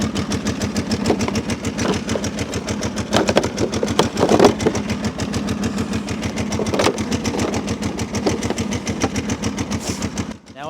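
A Kawasaki V-twin engine on an abandoned machine runs steadily and close, with a fast regular firing pulse and a light mechanical clatter of chain noise layered over it throughout.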